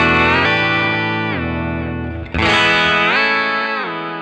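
An electric guitar chord runs through the Virtual Jeff Pro digital whammy and slides polyphonically down and then back up in pitch, with distortion and a chorus-like shimmer, loud and continuous with no pause.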